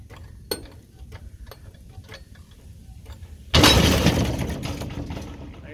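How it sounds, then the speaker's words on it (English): A big jack lifts a trailer axle, giving sparse ratcheting clicks and metallic taps at first, then a sudden loud crunching, grinding surge as the load shifts, fading slowly afterward. "I'm gonna start jacking up now"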